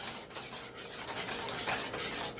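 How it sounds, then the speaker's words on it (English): A whisk stirs tempered eggs into hot milk in a pot over low heat, making quiet, continuous scraping and clinking strokes against the metal, with no talking. "Put that back on your low heat. You're going to whisk that in."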